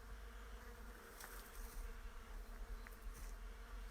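Steady buzzing of bees hovering close by among flowers in a cherry orchard, a continuous insect drone with soft rises in loudness and no voices.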